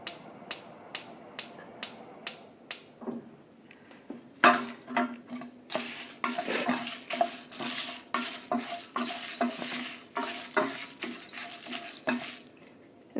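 Sambar spice masala roasting in a pan on a gas stove opens with sharp, evenly spaced ticks, then turns to dense crackling and scraping stirs that come in rhythmic bursts, close and with no talking.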